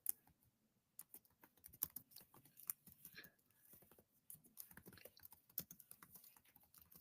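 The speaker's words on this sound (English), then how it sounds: "Sorry, I'm typing the title." Quiet typing on a computer keyboard, irregular bursts of soft key clicks with short pauses in between, close by.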